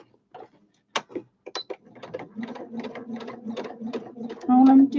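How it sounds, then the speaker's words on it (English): Home sewing machine straight-stitching fabric for a small scissors holder, a steady rapid mechanical whirr starting after a few short clicks and handling noises, running continuously and growing louder near the end. "All I'm doing is straight stitching"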